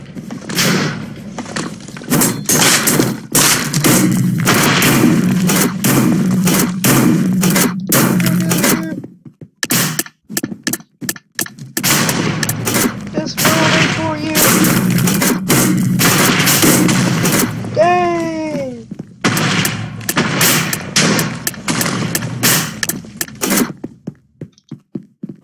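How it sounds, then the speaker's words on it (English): Pistol gunfire in a video game comes as loud, dense bursts of rapid shots across most of the stretch, broken by brief pauses, close and punchy, with a short electronic warble partway through. "Sniping with that pistol."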